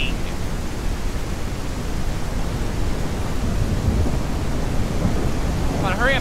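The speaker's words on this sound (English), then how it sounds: "That rain is thunderous." Heavy thunderstorm rain in the tribal survival game Native Hunter, a steady dense broadband roar of downpour with low rumbling underneath, constant throughout and loud, with a brief chirp near the end.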